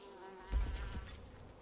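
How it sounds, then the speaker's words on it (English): Small bees buzz faintly around an apiary in the video game Bellwright, a soft insect hum that swells briefly near the middle of a short, quiet stretch. "You hear little bees buzzing around there once in a while."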